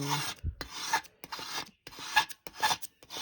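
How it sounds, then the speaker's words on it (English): A blade scrapes grime off the glass of a dirty makeup mirror in repeated rasping strokes, about six bursts with short pauses between them, close and fairly loud with no talking. "the mirror was pretty dirty, so I'm just scraping it"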